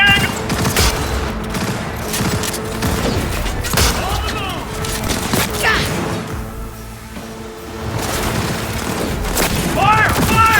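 Sustained gunfire and booming blasts from a Cyberpunk 2077 firefight, a dense close barrage of shots and impacts running throughout, with shouted voices in the mix.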